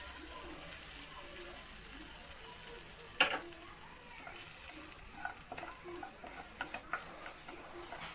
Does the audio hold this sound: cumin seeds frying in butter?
yes